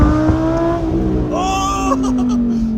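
A Ferrari 488 sports car engine revs up and holds a high, loud tone, its pitch rising and then sustained, with brief bursts of noise near the end.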